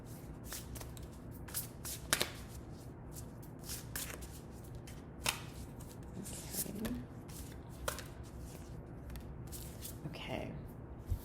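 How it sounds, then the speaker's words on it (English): Crystal oracle cards are shuffled by hand in a quiet room, with soft riffling and sliding bursts and occasional sharper flicks and taps, fairly close and low in level. "So let's pull a crystal card for you."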